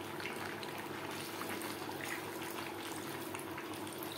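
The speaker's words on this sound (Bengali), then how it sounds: "এই পর্যায়ে দিয়ে দেব জল।" Water being poured into a pan of potato chicken curry, a quiet continuous splashing and trickling with no voices.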